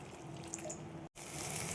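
Water poured from a vessel into a pan of grated papaya cooking for a vegetarian posto dish, a steady close trickling splash that breaks off briefly and returns louder.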